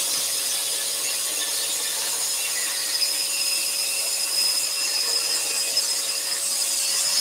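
A scroll saw whines steadily as it cuts through wood, a continuous high buzzing with a faint squeal rising partway through, no talking.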